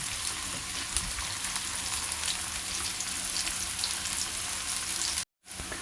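Onion fries in a pan with a loud, continuous, dense sizzle close up, cut by a brief silent gap near the end before the frying resumes.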